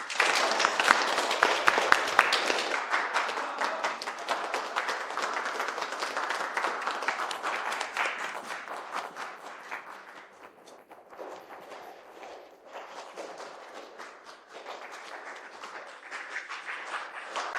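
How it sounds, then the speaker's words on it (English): An audience at an award ceremony claps as a Best Contribution Award winner comes to the stage. The applause is loud and dense at first, then eases slightly but continues steadily. "Let's give a warm round of applause"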